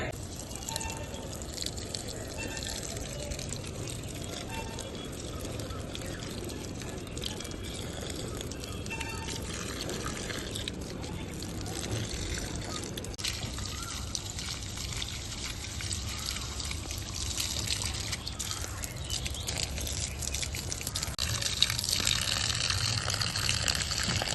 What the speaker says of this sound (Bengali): জল কিন্তু পুরো টবে পুরো ভর্তি করে দেবো